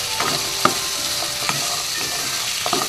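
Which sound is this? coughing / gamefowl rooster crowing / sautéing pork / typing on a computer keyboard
sautéing pork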